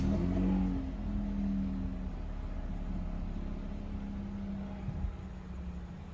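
A 2021 Toyota Harrier GR Sport non-hybrid engine is started. It settles into a low, steady idling rumble with a faint droning tone, a little louder at the start, then even and unbroken.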